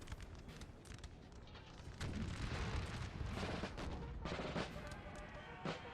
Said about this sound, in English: This artillery is still trying to fire, not doing a whole lot.